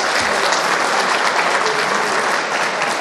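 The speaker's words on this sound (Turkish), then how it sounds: "Bir kez de onları alkışlamanızı istiyorum." A large crowd applauds loudly and steadily at the Mengen International Cookery and Tourism Festival in Bolu, a thick continuous roar of clapping with no voices above it.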